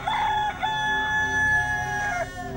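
A rooster in an animated story gives one loud, close cock-a-doodle-doo, a rising opening note followed by a long sustained tone that drops off at the end, heard alone.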